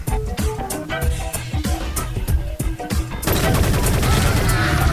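Rapid gunfire rattles through a gunfight in the online shooter game Shell Shockers, with bursts of sharp shots giving way to a denser, louder barrage near the end.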